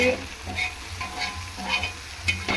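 Egg fries in a hot pan while being stirred, a close, steady sizzle punctuated by several quick spatula scrapes and taps at a brisk, uneven rhythm.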